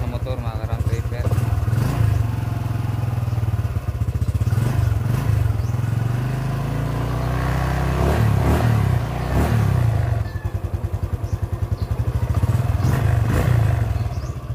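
A Honda motorcycle engine idles and revs repeatedly close by while warming up, its steady low rumble swelling with several throttle bursts over about fifteen seconds, with people talking over it.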